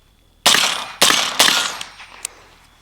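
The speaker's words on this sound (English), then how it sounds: "let's do some shooting, see how it does." An MK18 Block II rifle firing very lightly charged ammunition: three sharp, loud reports about half a second apart, each with a short ringing tail, followed by fainter clinks and a small metallic tap.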